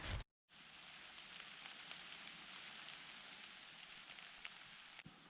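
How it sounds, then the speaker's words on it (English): Rain beginning to fall on the Appalachian Trail near Little Bigelow, a soft steady patter of drops on surfaces, faint and continuous after a brief bump at the start. "It's already starting to rain."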